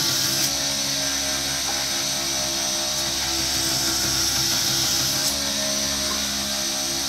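Round bar knife blade ground on a belt grinder, a loud, steady whirring hum with continuous abrasive hiss, held at an even level throughout.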